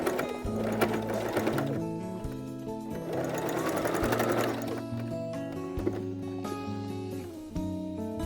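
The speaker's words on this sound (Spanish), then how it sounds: "yo decidí hacerlo en esta máquina porque es mucho más costura que otros moldecitos y quería hacerlo más rápido" A sewing machine stitches fabric for a cloth baby doll, a steady fast whirring clatter close by that runs in long bursts, slowing and pausing briefly between runs, with no voice heard.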